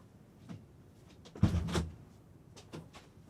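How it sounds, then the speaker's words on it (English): Indoor door being closed on a windy night, a faint soft clunk and rattle of the door swinging shut with a couple of lighter knocks around it, quiet and close. "I'm just going to go and close my door."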